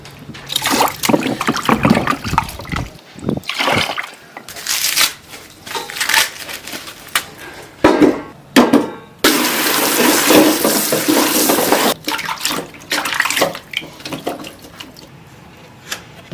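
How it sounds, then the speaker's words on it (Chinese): Bamboo tube being rinsed inside and out under running water in a rural kitchen, with irregular splashing, trickling and pouring bursts that stop and restart, close and fairly loud, with no talking. "把这个竹子里外都洗洗。"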